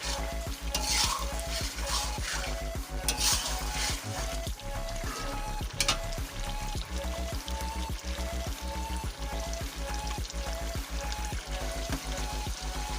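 Chicken karahi with green chillies frying in a pan: a continuous sizzle overlaid with a rapid, regular scraping and stirring rhythm of a spoon against the metal, close and busy, with no speech.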